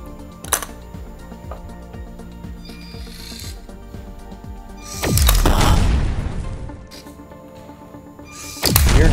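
A LEGO Spike Essential robot with a gravity-fed hopper launches ping pong balls, its small motor whirring and grinding between sharp mechanical snaps, with a louder rasping burst midway and another at the end.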